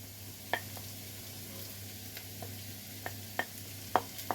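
Onion, carrot and leeks sauté in a pan with a faint, steady sizzle, broken by a few scattered scrapes and taps of a spoon against the pan.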